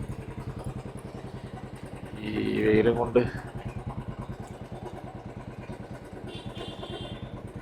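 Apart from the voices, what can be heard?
motorcycles at crowded beach bike parking, Goa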